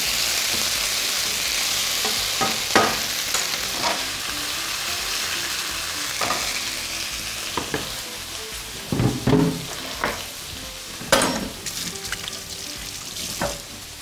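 Pork pieces fry in very hot oil in a pan, a constant sizzling hiss broken by occasional stirring clatters and sharper crackles, close and steady.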